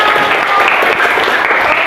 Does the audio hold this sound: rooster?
no